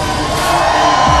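A dense, loud roar from a crowd cheering at a rally arena, a continuous wash of many voices shouting with no distinct break.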